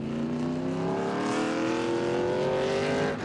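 A NASCAR Chevy race car, Joe Bessie's Power Team machine in the 1998 Kroger 200 at Indianapolis Raceway Park, slides off the turn as its engine holds a steady, loud, rising drone, continuous and without speech.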